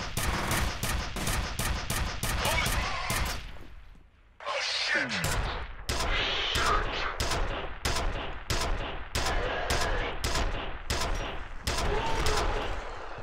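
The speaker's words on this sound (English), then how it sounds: "Who else is shooting me at this point?" Enemy gunfire in F.E.A.R. cracks in rapid, evenly spaced shots, loud and near, breaking off briefly into a short lull before the shooting resumes in sharp repeated bursts.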